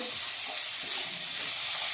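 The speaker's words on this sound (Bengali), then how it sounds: "লাল লাল করে আলুটা ভেজে নেব।" Potato pieces frying in oil for a Bengali-style niramish aloo posto, giving a steady, close, dense sizzling hiss that holds evenly throughout with no voices.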